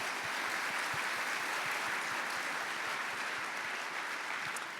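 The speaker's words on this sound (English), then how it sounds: "In the crowd, some applause." An awards-ceremony crowd claps steadily throughout, a dense and even patter of applause that holds at a constant level.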